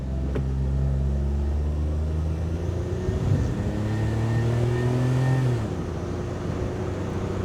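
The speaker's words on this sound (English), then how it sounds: "So foot on the brake, build the revs." A tiny car's engine is held at high revs with the foot on the brake for a launch-control start, a loud, steady droning rumble that climbs in pitch before dropping off near the end.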